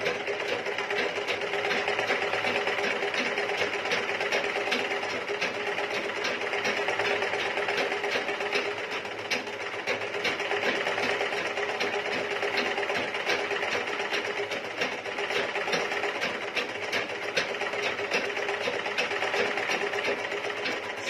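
A treadle sewing machine runs steadily and continuously for about twenty seconds, its loud, even mechanical whir holding close and constant throughout.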